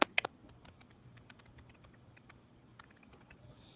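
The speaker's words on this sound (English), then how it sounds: "No, somebody typing." Computer keyboard typing on an open mic during a live online tech talk show, a few sharp clicks at the start followed by faint, scattered keystrokes over a low background hum.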